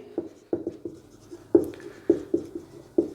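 Pen or chalk writing notes during a Hindi-language lesson on manufacturing industries, heard as a series of short, distinct strokes and taps at an irregular pace, fairly close and clear with no speech over them.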